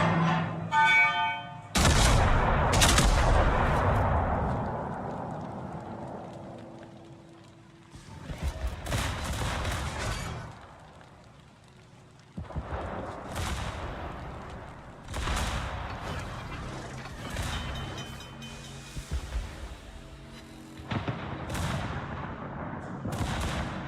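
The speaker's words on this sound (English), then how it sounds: "Now he's shooting AP at my rear end." Heavy naval gun salvos boom across a World of Warships battle, a loud opening blast followed by several separated bursts of booming fire with rumbling decay, no talk over them.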